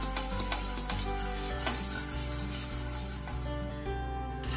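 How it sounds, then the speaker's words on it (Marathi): Milk is stirred continuously in a pan over a medium flame as it thickens into khoya, giving repeated soft scraping strokes and a light bubbling sizzle over a steady background hum. "फक्त तुम्ही याला कंटिन्यू असं ढवळत राहा, जेणेकरून आपला पटकन होईल।"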